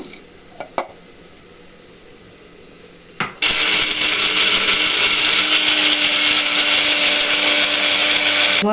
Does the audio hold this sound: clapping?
no